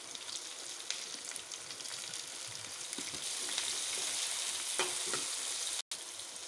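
Onions frying in oil toward golden brown make a soft, steady sizzle with faint crackles and scattered stirring taps, quiet and close with no voices, cut by a brief dropout near the end.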